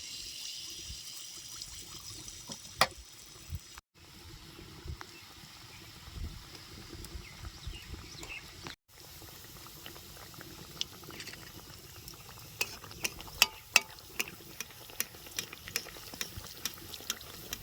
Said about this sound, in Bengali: একই রকম করে সমস্ত মালপোয়াগুলো আমি বাজে নেবো